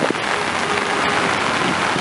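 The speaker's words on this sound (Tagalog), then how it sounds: "Ayan, ganyan kalakas ang ulan sa ano, sa Espanya." Heavy rain in Espanya pounds down in a steady, dense roar of drops striking surfaces nearby, loud and constant.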